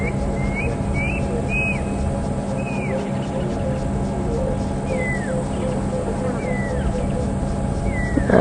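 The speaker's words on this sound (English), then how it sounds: "I can hear a pearl-spotted owlet calling in the distance." Pearl-spotted owlet calling far off in a game reserve at dusk, a series of faint rising whistled notes repeated through the clip over a steady background hum of insects and bush sounds.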